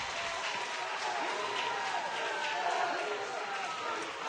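A large crowd cheers and applauds in a packed arena at a Pop-A-Shot national championship quarterfinal, a dense continuous roar with scattered whoops, and an announcer's voice carrying over it.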